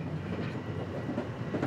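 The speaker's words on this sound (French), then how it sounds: "Tous les jours, sur la ligne de Corinne, une centaine de trains filent le long de la rivière Hudson vers Manhattan." Passenger train running on rails along the Hudson River toward Manhattan and Grand Central, a steady close rumble of wheels and carriage noise with faint rhythmic clatter throughout, no voices.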